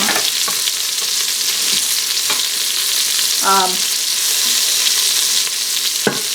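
Bacon grease topped up with olive oil frying in an Instant Pot, a continuous bright sizzle with a couple of faint utensil knocks, close and fairly loud, no talking.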